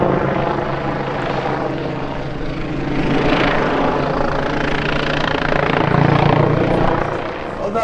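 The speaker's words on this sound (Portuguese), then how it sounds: "é barulho da roçadeira do vizinho, é o helicóptero." A helicopter flies overhead, its steady rotor thrum swelling louder toward the middle and end, with faint speech in the background.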